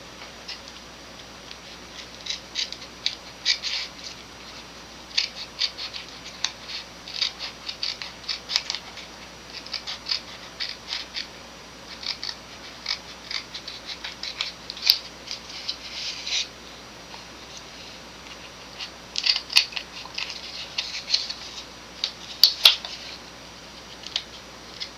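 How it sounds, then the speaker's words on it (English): Scissors snip through paper while trimming excess from a robot head, producing a long run of quick, close, crisp cuts in irregular bursts, with sharper louder snips near the end. "I want to cut off the extra paper that will keep it from going down. So I'm going to cut across."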